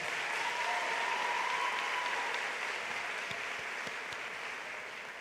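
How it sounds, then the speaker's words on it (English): Audience applause at a 2017 high school graduation ceremony in Fort Pierce, a steady wash of many hands clapping, fairly distant and even throughout with no talk over it. "Could we give them a round of applause at this time?"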